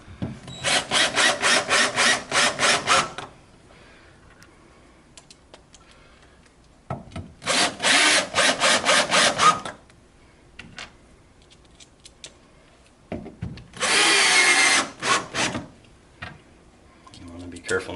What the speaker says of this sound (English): here we're going to attach the base to the furniture with the tapping screws. We've got a 5/16 inch driver in our drill.